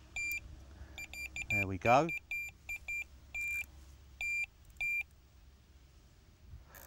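A Tx-i Plus cordless fishing bite alarm gives a series of short, sharp electronic beeps at uneven intervals, with a brief warbling tone and a few spoken words.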